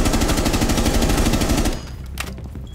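Rapid, sustained automatic gunfire in Rainbow Six Siege rattles loudly for under two seconds, then cuts off, leaving quieter game ambience with a brief sharp sound.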